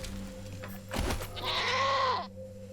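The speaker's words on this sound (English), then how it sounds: "I don't know why this mountain goat is out here." A mountain goat in the video game Wasteland 3 lets out a loud, wavering bleat, preceded by a short thump, over a steady low game ambience.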